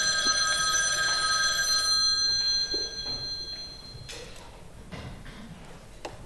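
A telephone ringing with a bright, sustained electronic trill for about two seconds, then stopping, followed by faint clicks and handling noises in a quiet room.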